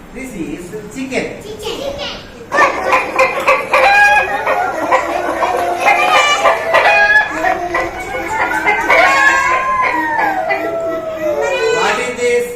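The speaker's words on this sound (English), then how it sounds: "This is chicken." A recorded chicken clucks and crows in a string of bright, repeated calls during a children's animal-sounds activity, beginning after a short quiet lead-in and staying loud, with faint children's voices around it.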